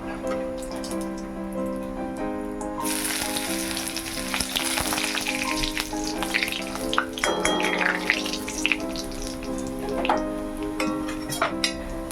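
Cumin, bay leaf, dried chili and ginger hit hot oil in a mung dal tempering, making a continuous bright sizzle that swells partway through, heard over a steady tonal hum with no one speaking.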